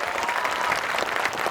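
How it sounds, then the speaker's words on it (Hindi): A large crowd at a political rally in Nizamabad, Telangana, claps in praise. The applause is dense and continuous and fills the air evenly, with some faint voices mixed in. "एक एक आदमी इस बात के लिए ताली बजा करके इनकी तारीफ करे"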